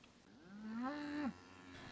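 A Wagyu cow from a Japanese-origin herd of about 130 lets out a single drawn-out moo that rises and then cuts off, faint and distant, with no voices.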